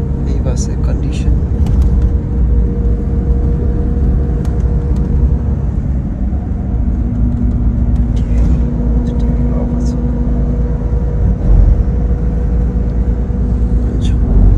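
Inside a moving bus at night, a loud, steady low engine and road rumble runs throughout, with faint rattles on top and a voice talking in the cabin.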